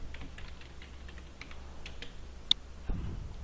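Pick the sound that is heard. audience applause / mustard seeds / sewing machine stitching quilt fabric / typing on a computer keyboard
typing on a computer keyboard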